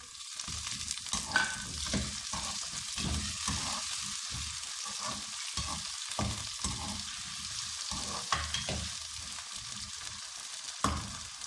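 Potatoes sizzle steadily in a hot pan while being stirred, with irregular scraping strokes and a few sharper clinks, close by and without talk.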